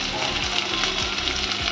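Green chillies and onion with cumin fry in a pan, giving a steady, even sizzle with soft stirring scrapes and a few light clinks.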